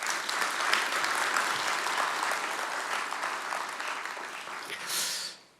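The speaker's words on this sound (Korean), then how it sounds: "뜨거운 박수로 격려해 주세요" A church congregation at Sunday worship gives warm, encouraging applause, a full, sustained round of clapping that carries on evenly before fading out quickly at the end.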